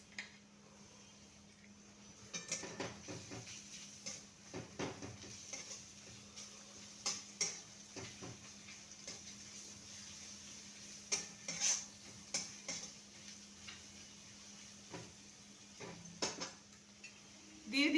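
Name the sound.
grated garlic added and stirred into fried onions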